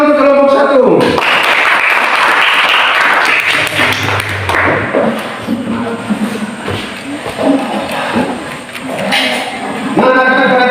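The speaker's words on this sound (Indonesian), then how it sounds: "Tepuk tangan untuk kelompok 1." Group of students in a classroom clapping for a presenting team, a dense burst of applause running most of the length, with talk and classroom chatter mixed in.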